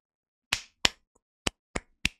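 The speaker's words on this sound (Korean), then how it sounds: "박수! 박수!" Five sharp, isolated hand claps close by in an irregular rhythm, loud and dry with nothing else around them.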